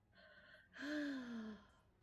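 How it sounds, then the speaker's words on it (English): A single sharp gasp, a short breathy intake followed by a longer voiced rising-falling exhale, close and clear with no talk over it. "Le gasp."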